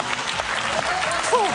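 A comedy show audience claps steadily in a dense, continuous burst of applause, with a voice briefly heard over it.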